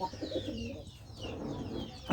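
Indian dove pigeons kept for sale coo softly in low, throaty murmurs, a faint continuous burble with no talking.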